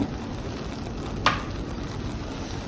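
Sugar being stirred in a pan for narali bhat, a coconut rice sweet, gives a steady close sizzling hiss with one sharp clink of a utensil against the pan partway through.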